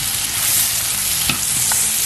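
Eggplant sautés in a pan for a Filipino kare-kare, a loud, dense, close sizzle with a couple of faint utensil taps.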